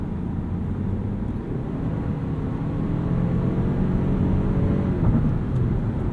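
Inside a 2019 Toyota Avalon Hybrid XSE with a four-cylinder hybrid drivetrain, a steady low engine and road rumble fills the cabin, swelling slightly as the car gathers speed, with no one talking.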